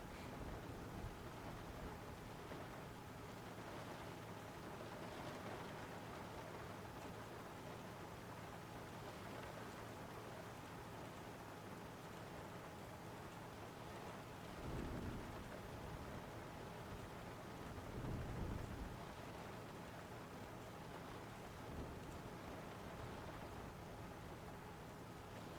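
Steady rain hiss in the Blackhawk Rescue Mission 5 video game, continuous and fairly loud throughout, with a couple of low rumbling thunder swells rising briefly past the midpoint.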